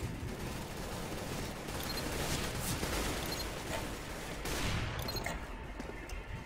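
Rapid, sustained gunfire from a Counter-Strike: Global Offensive match, dense overlapping shots and bursts with no pauses across the whole stretch, loud and close.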